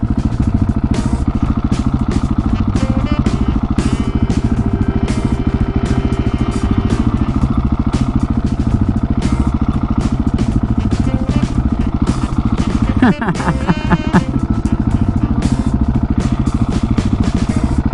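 KTM 701 Supermoto single-cylinder engine droning steadily and loudly while riding, with a brief clattering burst near the end.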